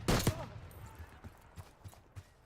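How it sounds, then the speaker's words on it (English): Heavy gunfire in the Call of Duty Black Ops 6 video game: one loud close burst, then scattered distant shots popping at irregular intervals. "We're taking heavy fire at the helo."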